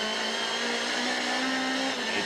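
Touring car engines at Kyalami in 1998 scream at full throttle in a steady, sustained high-pitched drone, with one car's note holding a constant tone before it shifts near the end.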